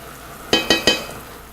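Garlic, shallots and mushrooms sizzle in a frying pan. Three quick, close scraping stirs cut through a steady soft hiss of frying.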